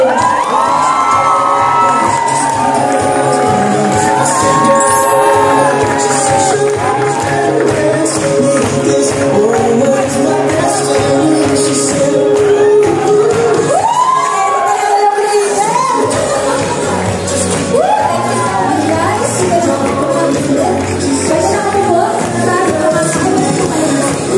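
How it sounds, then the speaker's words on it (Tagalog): Wedding guests cheer, whoop and shout in a loud, sustained crowd roar as the newlyweds are welcomed at their wedding ceremony, with children's shrill voices rising above the noise and a brief dip midway before the cheering swells again. "Sabay-sabay po natin salubungin na may kasamang palakpakan at hiyawan"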